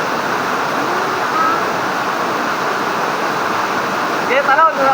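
Mahogany Falls in Dingalan, Aurora roars as a steady, loud broadband wash of falling water, with a voice briefly speaking near the end.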